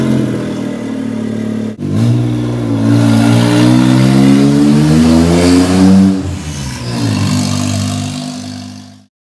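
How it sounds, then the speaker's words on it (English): Modified show car engine revving in the street on a test lap before an exhaust is fitted, rough rising and falling revs with one brief cut, then cutting off at the end. "We're going to take it for a quick test lap of the street just to make sure everything's working, including the brakes"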